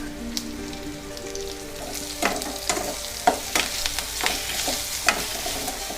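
Onions frying in a pan for yellow cucumber dal, a continuous close sizzle broken by sharp pops and spatters and occasional stirring scrapes, with no talking.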